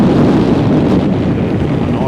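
Steady, loud wind buffeting on a cool, breezy day while riding a CFMoto 450MT motorbike out of Stanley, Tasmania, a continuous broadband rush with no pauses.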